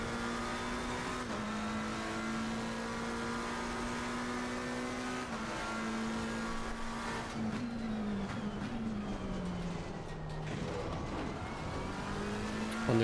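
A race car in LFM racing runs at high revs, close and steady, its engine note shifting as it upshifts and accelerates, with a dip and a climb near the end and a faint hint of tire noise.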